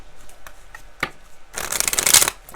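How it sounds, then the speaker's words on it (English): A deck of tarot cards is shuffled by hand: a few soft taps and flicks, then a quick dense riffle of cards rattling together, close and crisp. "One more shuffle, and we'll see what's going on with you guys."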